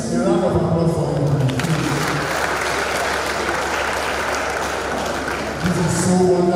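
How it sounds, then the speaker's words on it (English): Sustained applause from a lecture-hall audience after a faculty lecture on computing and informatics, dense steady clapping filling the room with a voice briefly heard over it. "Please, a round of applause for him."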